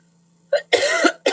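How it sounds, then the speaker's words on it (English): Three close, harsh coughs in quick succession, the middle one longest, with near silence before them. "This damn cough."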